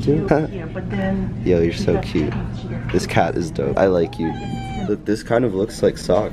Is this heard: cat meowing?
yes